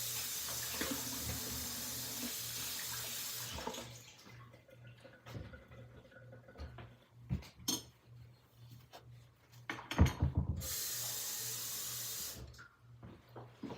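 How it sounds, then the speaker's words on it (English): Tap water runs steadily into an Instant Pot, then stops, followed by soft clinks and handling knocks, with a second burst of running water before it shuts off; no talking. "So I'm just going to put some water in there."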